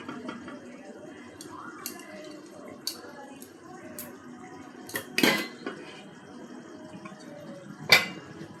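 Cooked chicken biryani rice being spooned in layers into a pot, with soft scrapes, light clinks of a metal spoon against the pot and two sharper clanks standing out, under faint background murmur.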